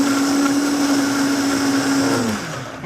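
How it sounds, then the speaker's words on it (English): Countertop blender whirring through fresh fruit and water for a smoothie, a loud steady motor whine that runs briefly and then winds down as it is switched off. "you just have to turn on the blender for a few moments"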